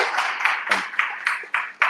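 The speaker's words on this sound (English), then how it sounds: "warm round of applause" A small conference audience gives a warm round of applause for a speaker, with a few sharp, spaced claps ringing out loud and close, sounding more like scattered individual hands than a full crowd.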